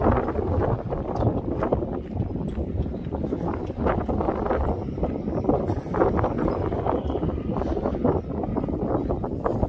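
Heavy wind at an estuary boatyard buffeting the microphone, a constant low roaring rumble with gusty thumps throughout, loud and close, no voices.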